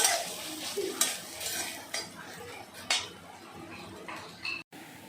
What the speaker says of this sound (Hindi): और प्याज डाल के फिर इसमें लहसुन कुटा हुआ भी डाल दिया, और ये दोनों मिक्स करने के बाद ही और मैं दूसरी चीज़ें डालूँगी इसमें।